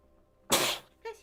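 A single sharp sneeze bursts out close by, followed a moment later by a brief, softer vocal sound, with quiet room tone before it.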